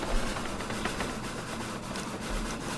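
A J2 steam locomotive runs in a train simulation game, giving a steady, rhythmic chuffing and rumbling drive that stays even and moderately loud throughout.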